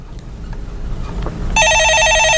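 A telephone rings on a live stock-market call-in radio show, a loud electronic trill bursting in after a quiet stretch of room tone and continuing steadily to the end.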